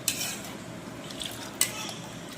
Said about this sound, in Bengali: দইটা দিয়ে এবারে দইটাকে চামচ দিয়ে দুধের সঙ্গে ভালো করে মিশিয়ে নেব